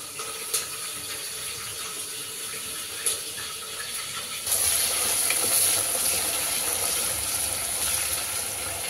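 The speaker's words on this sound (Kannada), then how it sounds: "ಚೆನ್ನಾಗಿ ಫ್ರೈ ಆಗಬೇಕು ಈರುಳ್ಳಿ" Onions and curry leaves fry in a pan for vegetable biryani, a steady hissing sizzle that jumps louder partway through as more goes in, with faint clicks of stirring.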